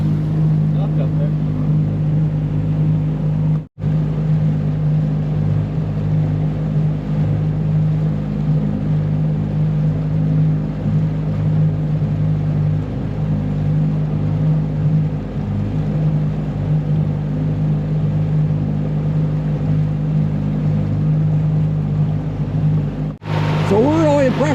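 A Tohatsu 20 horsepower four-stroke outboard motor drives a boat on a river cruise at about 3,000 RPM, producing a steady, close low drone that continues for the whole stretch with only brief dropouts.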